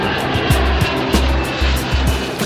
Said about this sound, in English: Despite of its enormous takeoff weight of almost 400 tons, AN-124 can take off even from sand.